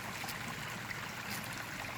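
A small garden waterfall pours in a steady, broadband rush of falling and splashing water, close and continuous, with no voices over it.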